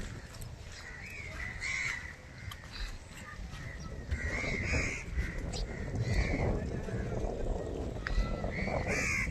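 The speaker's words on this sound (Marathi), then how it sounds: "केवढ्या चिमण्या आहेत माहिती." Sparrows in a tree beside a creek at Kalher chirp in a busy, overlapping chatter that swells and thickens, with other bird calls mixed into the outdoor noise.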